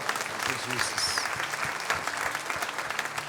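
A church congregation claps steadily and fairly loudly, sustained applause filling the space, with a voice faintly calling out over it.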